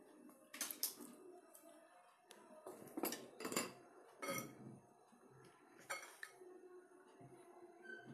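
Dry chocolate cake ingredients are mixed together in a bowl, with a quiet scraping and clinking of a utensil against the bowl, coming in short irregular bursts with brief pauses in between.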